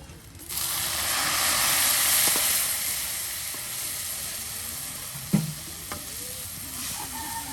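Spices and garam masala fry and get stirred in a pan at a riverside cooking spot, giving a bright, close sizzling hiss that swells early and then settles, with one brief knock partway through.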